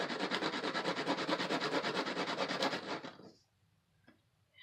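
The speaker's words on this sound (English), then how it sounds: "So this is a rough sanding block." Steady rasping back-and-forth sanding of a small plastic piece with a rough sanding block, fast even strokes for about three seconds, then it stops, leaving near silence and a faint tap.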